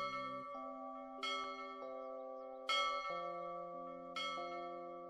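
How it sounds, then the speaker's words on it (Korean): Church bell tones ring out in a slow sequence, each strike followed by a long, resonant hum that lingers and overlaps the next. "종소리가 댕댕 울리더니"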